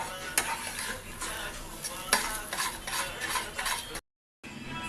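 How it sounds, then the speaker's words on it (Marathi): Cashews, raisins and cardamom powder stir-fried in ghee for a festival offering, a soft steady sizzle with spatula scrapes and clicks against the pan, close, briefly cut to silence near the end. "आता आपण विलायची पावडर आणि काजू आणि मनुके तळून घेतले होते ते ॲड करू आणि अजून परतून घेऊ चांगलं"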